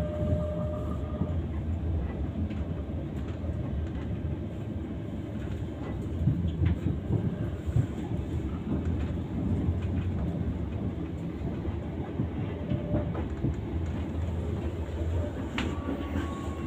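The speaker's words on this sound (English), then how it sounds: "On a train here, C2C." Inside a moving C2C passenger train heading toward London, a steady low rumble of wheels and carriage noise continues with faint rhythmic clicks and occasional squeaks, with no talking.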